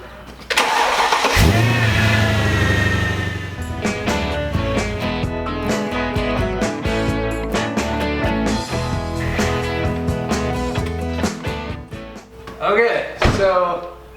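A Mercedes E55 AMG W211 V8 cranks briefly and catches, revving up loudly before settling into a steady, close idle with a rough mechanical rhythm and a few clunks near the end.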